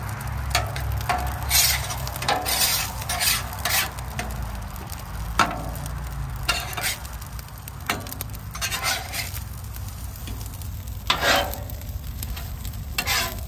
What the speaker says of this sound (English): Mix it all up on that pan to get all of them flavors up